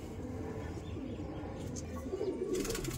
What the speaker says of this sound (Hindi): और ये पूरा कबूतर है भाई।